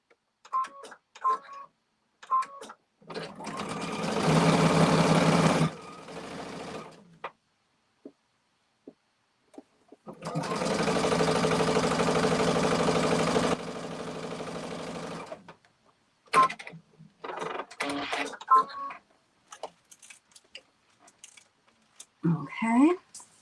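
A sewing machine stitches fabric in two steady whirring runs, one of about three seconds and a longer one of about five seconds. A person speaks briefly between the runs and after them.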